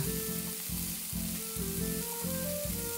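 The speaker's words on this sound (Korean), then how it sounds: "살살 돌려 골고루 구워줍니다." Bacon-wrapped rice cake rolls frying gently over low heat in a pan, a continuous soft sizzle beneath a repeating pulsing hum.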